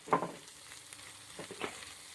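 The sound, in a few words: stirring hamburger meat with a fork in butter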